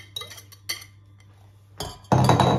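Choux pastry mixture being stirred in a pan: a few light clinks of a utensil on the pan, then a louder burst of scraping and stirring at the end, close, with no talking.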